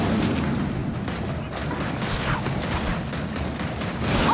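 Gunfire in Gears of War 4 aimed at a counterweight, sounding as a steady stream of heavy rapid shots mixed with booming game noise, loud and close throughout.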